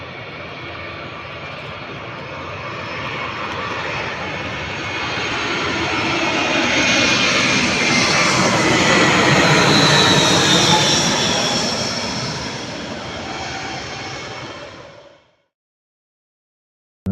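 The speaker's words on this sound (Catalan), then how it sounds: "tenim també molts avions que ens passen per damunt a totes hores" Jet airliners pass overhead near the Mallorca airport, a broad roaring engine noise that swells toward the middle, holds loud, then fades and cuts off after about fifteen seconds.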